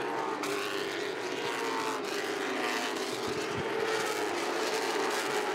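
Limited late model race cars circle the Southern National track during the Thanksgiving Classic, a steady loud engine roar sweeping past with no break across the stretch.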